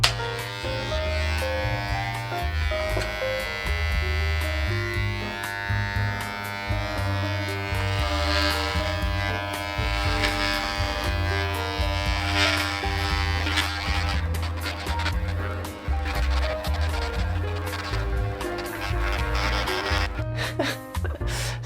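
Electric hair clippers fitted with a 25mm guard buzzing continuously as they cut hair at the back of the head, a close, steady hum with faint scraping through the hair.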